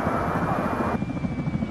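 Helicopter in a military video game, a steady rotor and engine drone filling the whole clip at close, even loudness with no talk.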